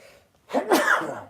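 A single sharp human sneeze, one quick burst from a short inhale into a forceful, breathy release, heard close and alone over a quiet room.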